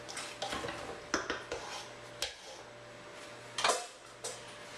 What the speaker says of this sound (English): Mix this all in so you have the cheese incorporated throughout all the pasta